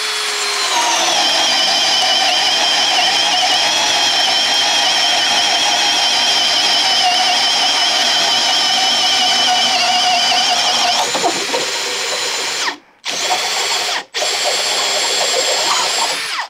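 Cordless Makita drill boring through wood in a head-to-head test against a Milwaukee, a loud, steady high whine running continuously, dropping in pitch near the end, then two brief cuts to silence before it resumes.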